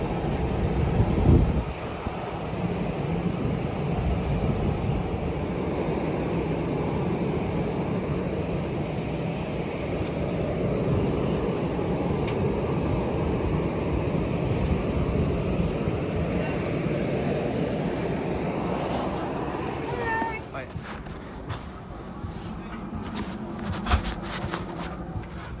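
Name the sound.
Aurigny airliner engine in flight to Guernsey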